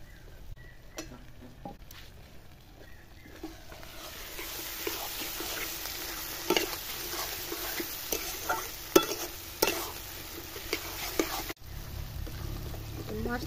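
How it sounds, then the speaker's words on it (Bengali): Spices with turmeric fry in a pan for a jackfruit curry as they are stirred, a soft steady sizzle with scraping strokes and occasional clinks of the spoon against the pan, building gradually over several seconds. "মশলাটা ভালো করে ভাজতে হবে"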